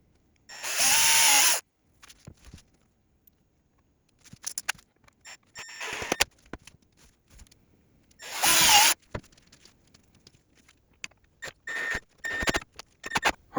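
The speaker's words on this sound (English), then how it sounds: "I need to drill out these strap buttons" Several bursts of a power drill whine at full speed drilling strap button holes in a wooden guitar body, separated by pauses and lighter clicks and handling noises.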